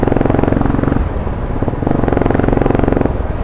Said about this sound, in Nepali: सबले हेर्दो रहेछ बाइकको आवाज नै त्यत्रो छ नि त